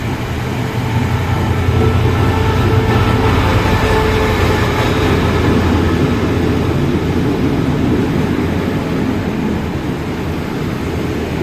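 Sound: train at Chumphon railway station, Thailand

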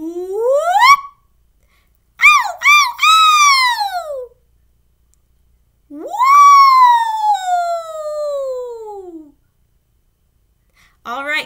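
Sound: voices imitating sirens

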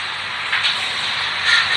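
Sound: inverter cooling fan running

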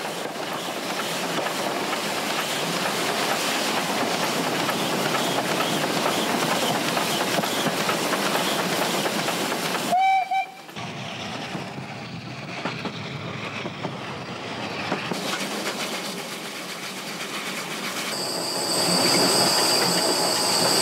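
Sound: Saxon Meyer steam locomotive climbing steep grade

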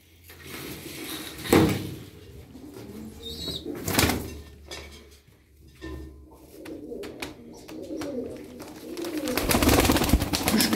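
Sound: pigeon cooing

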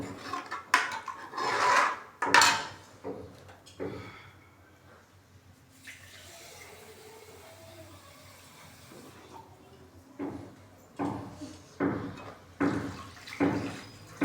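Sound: water poured into a pot of black chickpeas

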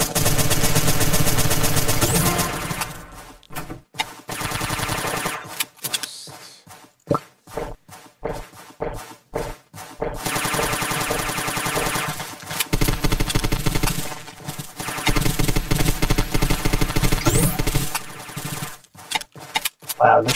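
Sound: suppressed SMG gunfire in the video game Zombs

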